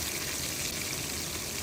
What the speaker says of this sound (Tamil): கூடவே நறுக்கி வச்சுருக்கிற வெங்காயம், பச்சை மிளகாய் இது கூட ஆட் பண்ணிக்கிறேன்.